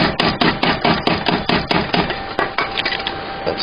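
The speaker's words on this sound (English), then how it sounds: "I'm going to take this and hammer the threads." A hammer strikes the threads of a bolt in quick, sharp, evenly spaced blows, loud and close, about a dozen hits in steady rhythm with no talking.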